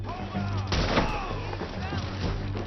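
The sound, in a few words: rifle gunshots in video game Red Dead Redemption 2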